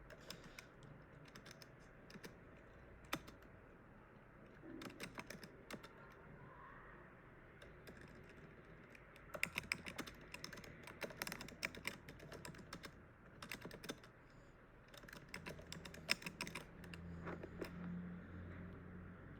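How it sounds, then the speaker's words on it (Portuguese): Typing on a computer keyboard, quiet irregular key clicks with bursts of rapid keystrokes and pauses, close and faint, with no talk. "Aqui sou eu digitando, tá?"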